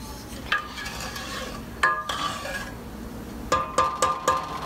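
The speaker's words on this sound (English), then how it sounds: "Now you just want to give that a quick stir and let that simmer." A spoon stirring a simmering vanilla bean custard mixture in a pot, a few separate metallic scrapes and clinks against the pot over a soft bubbling background, close and fairly quiet.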